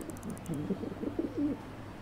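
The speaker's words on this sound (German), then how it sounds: "Wie soll ich diese Taube bloß loswerden?" Soft, low pigeon coos in the Syberia: The World Before video game, a few rounded calls in a short run over a quiet hum with faint high ticking.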